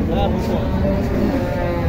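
A young calf at a cattle market gives a long, loud, close moo that fills the whole moment.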